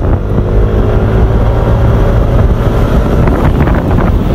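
A Yamaha Aerox 155 scooter accelerating on a test ride, the engine droning loud and rising under heavy wind buffeting on the microphone, with no speech.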